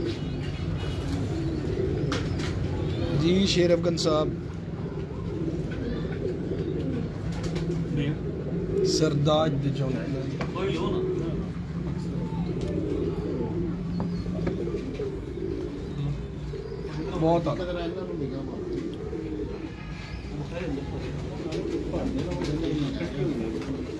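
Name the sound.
A man's pigeons cooing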